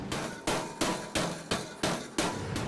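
A large hammer shaping a plastic form strikes eight times at an even, brisk rhythm, each blow a close, dull thud on a firm surface.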